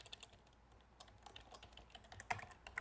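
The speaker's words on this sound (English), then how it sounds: "I'll just type it in" Quiet typing on a computer keyboard, a scattered run of soft key clicks with a few sharper taps near the end.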